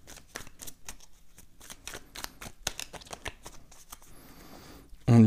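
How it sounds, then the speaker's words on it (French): Tarot cards are cut and shuffled by hand, a rapid run of crisp riffling flicks and slaps close to the listener, ending in a louder thump as the deck is set down. "Alors, 5 cartes, on va déjà faire une coupe."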